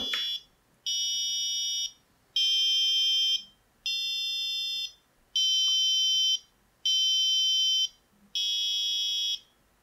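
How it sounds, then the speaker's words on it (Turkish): An electronic buzzer plays a melody of seven steady tones in even, repeating bursts with short silent gaps between them, fairly loud and with no voices. "Melodiyi çalmayı bitirdiğinde de buzzer'ım susuyor."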